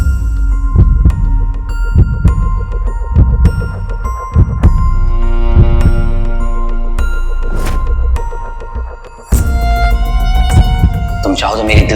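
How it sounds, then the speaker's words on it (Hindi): Slow, regular heartbeat thuds sound under a romantic TV drama scene, steady throbbing pulses with a humming music bed and occasional chimes, fairly loud and close throughout. "तुम चाहो तो मेरी दिल की धड़कन को सुन भी सकती हो"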